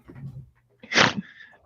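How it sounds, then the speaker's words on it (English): A person gives a single sharp snort, a short loud nasal burst that stands alone after a quieter stretch with some faint voice beforehand. "Did you just snort?"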